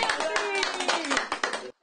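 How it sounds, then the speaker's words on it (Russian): Lively clapping for a child at a club for children with developmental differences, a quick run of sharp, close hand claps over about a second and a half, then an abrupt stop into quiet. "Молодец, аплодисменты!"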